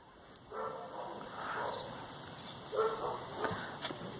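A dog barks in a few short bursts, moderately close, over a steady outdoor hiss with a high electronic whine.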